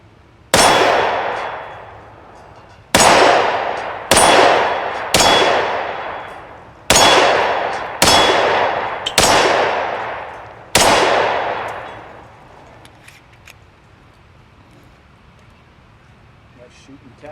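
Eight Tokarev TT-33 pistol shots ring out at a range, each followed by a bright metallic clang from steel targets that decays slowly, spaced unevenly over about ten seconds before quiet.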